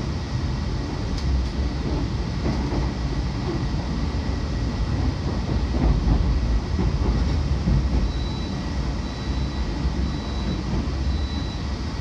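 Mataram passenger train running on rails just after leaving Yogyakarta on an overcast morning, heard from inside as a steady, loud rumbling roar with faint clicks from the track, continuous for the whole stretch.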